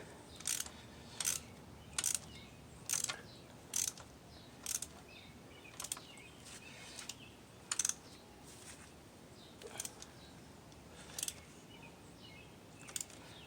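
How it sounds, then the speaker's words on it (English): A ratchet clicks in short, crisp bursts while tightening a spark plug on a 2003 Nissan Sentra, about a dozen quick ratcheting strokes spaced irregularly, close and fairly quiet with no talk. "Now you're going to use your ratchet and make sure it's straight"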